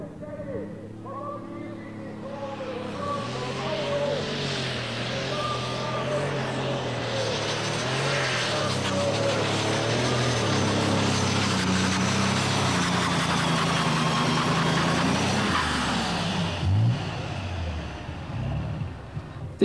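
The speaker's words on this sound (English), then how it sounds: "These alky burners have a clean exhaust and very different running characteristics." A diesel pulling tractor converted to run on alcohol with spark ignition runs loud and steady, its engine note rising and holding for many seconds under a talking voice.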